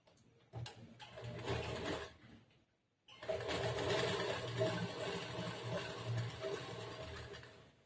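A sewing machine stitches a churidar top along its edge, whirring in a short run, stopping briefly, then starting again for a longer steady run, close and clear.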